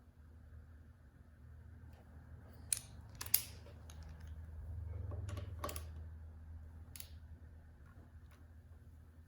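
Small Torx bolts being unscrewed from a motorcycle fairing, heard as a few sharp close metallic clicks and ticks scattered over a quiet low hum.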